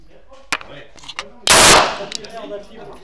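Rapid shots from a Colt 45 pistol with a long barrel at a gun shop range event, one loud crack with a lingering tail amid smaller clicks and handling noises, with brief voice sounds between.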